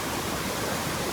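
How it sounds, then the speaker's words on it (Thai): The waterfall at Tad Kaeng Yui near Vang Vieng, Laos, gives off a loud, dense, unbroken rush of falling water, close and steady throughout with no other sound standing out. "จุดนี้ก็เป็นจุดที่มีน้ำตกคือกันเนาะ"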